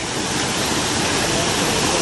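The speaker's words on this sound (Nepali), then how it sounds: "यहाँ चाहिँ खोला बढेको रहेछ भाइ" Loud, constant roar of a swollen river flowing fast, a dense rushing wash with no pauses, close by and filling the whole clip.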